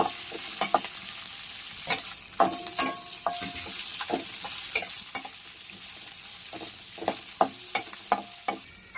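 Halved green chillies, sesame seeds and dals fry in hot oil, giving a constant crackling sizzle broken by frequent clinks and scrapes of a spoon stirring the pan, close and steady, with no voices.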